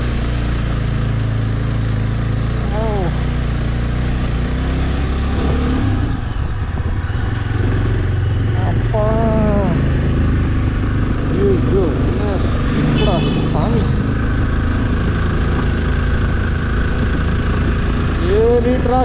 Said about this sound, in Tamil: வண்டி இதாக ஒரு சவுண்ட் கேட்கும்னு நினைக்கிறேன் உங்களுக்கு